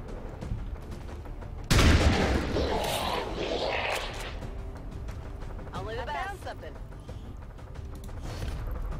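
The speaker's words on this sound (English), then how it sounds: "I think we can just shotgun you" A single loud shotgun blast in XCOM 2: Long War 2, hitting suddenly and rumbling off in a long decaying tail, followed by quieter game sounds and a voice talking.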